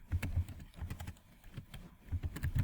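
Fingers typing on a computer keyboard while entering a part description in drawing software, a close run of irregular clicking keystrokes with short pauses between bursts.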